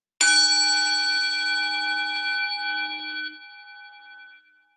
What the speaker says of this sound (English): listen to the sound of the bell until you can no longer hear any sound